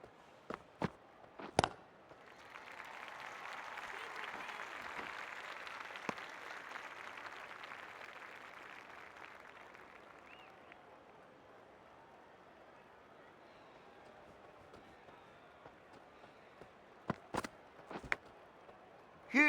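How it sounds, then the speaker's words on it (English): A crowd at a Brisbane Heat versus Sydney Sixers women's cricket match applauds a number 11 batter coming in, a faint, spread-out clapping that swells after a few sharp knocks, then fades back to quiet ambience with scattered thuds. "Please give her a round of applause."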